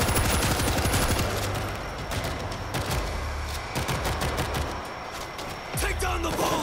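Gunfire in World War Z, with bursts of rapid automatic shots and sharp single cracks spread across the scene, loud and close. Shouted voices and game noise mix in with the shooting.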